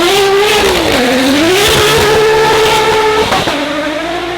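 A flat-plane-crank, twin-turbo hybrid V8 road-going hypercar at a festival of speed revs hard, rising and falling in pitch with a sharp blip near the end. The engine note is loud, close and continuous.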